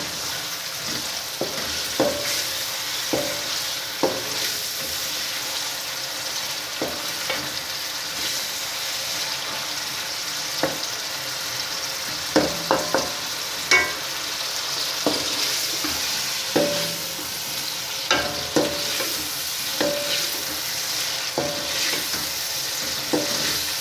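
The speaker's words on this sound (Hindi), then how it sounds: "चिकन को अच्छी तरह मिक्स कर लेते हैं।" Chicken being stirred and mixed in a large pot of spinach and meat curry, with a steady sizzle beneath repeated scraping and clanking strokes of a spoon against the pot, close and fairly quiet.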